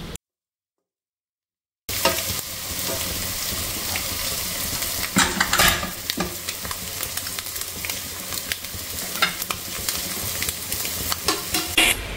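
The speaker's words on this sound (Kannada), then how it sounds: "ಈಗ ಸ್ವಲ್ಪ ಚೆನ್ನಾಗಿ ಫ್ರೈ ಮಾಡ್ಕೊಂಡು ಆಯಿತು" Steady sizzle of food frying in a pan with garam masala and chili powder, loud and close, with a spoon scraping and stirring in irregular strokes after a brief silent start, no talk.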